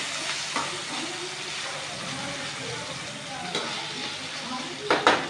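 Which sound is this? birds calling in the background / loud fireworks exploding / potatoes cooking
potatoes cooking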